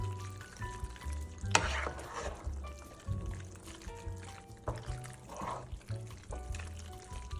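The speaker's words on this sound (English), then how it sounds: "Now my favorite part, mixing the noodles and the cheese sauce together." Noodles being stirred into cheese sauce for mac and cheese, giving wet, sticky squelches and scrapes in an uneven rhythm, close up and clear with no talking.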